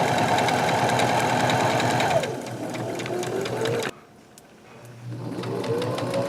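Sewing machine stitching around the edge of a fabric lap quilt, a steady, loud mechanical whirr that slows and pauses briefly before starting up again.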